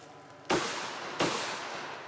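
Two sharp, loud gunshots crack close by against the glass of an armored Tiger vehicle, spaced under a second apart, each leaving a brief ringing decay.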